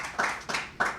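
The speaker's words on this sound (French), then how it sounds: "Mais on acclame très fort." Audience applause at a conference on the Berlin Conference, heard as three short bursts of hand-clapping about a third of a second apart, moderately close and without talk.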